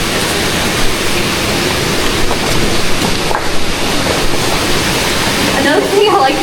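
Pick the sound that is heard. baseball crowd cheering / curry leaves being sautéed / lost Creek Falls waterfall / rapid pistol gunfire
lost Creek Falls waterfall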